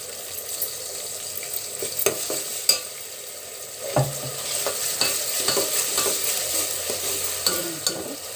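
Masala frying in a pan for Andhra-style small-fish curry, with a steady hiss of sizzling oil and occasional sharp scrapes and clinks as it is stirred, close and moderately loud, no voices.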